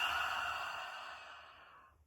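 A deep, breathy exhale into cupped hands during a quiet meditation session, one long soft rush of air fading out over about two seconds, close and alone.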